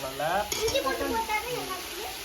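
Ginger garlic paste frying and being stirred in a pot while cooking biryani, a steady close sizzle with scraping spoon strokes, no talk over it.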